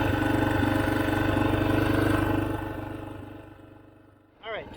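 Motorcycle engine idling near 1200 RPM on a rocky trail, a steady close low rumble that drops in level partway through before a brief rev-like rise at the end.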